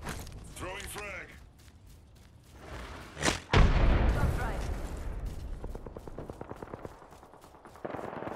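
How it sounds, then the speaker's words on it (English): A frag grenade goes off in a shooter game with a sudden, loud, booming blast that rolls into a fading rumble, surrounded by rapid gunfire and a brief voice early on. "Throwing frag."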